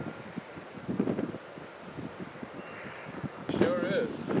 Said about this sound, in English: it's very windy out here, so we're hoping that the audio on this particular video is not going to be too bad.